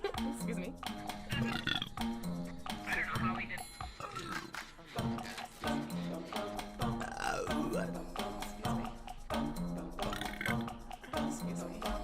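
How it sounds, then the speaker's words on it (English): A woman streamer lets out several burps, some long and croaking, mixed with her talking over a few seconds. "I have to burp."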